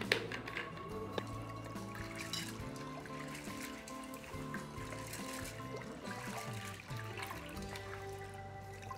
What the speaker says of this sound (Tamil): இது நல்லா ஒரு தண்ணி ஊற்றி கழுவிக்கோங்க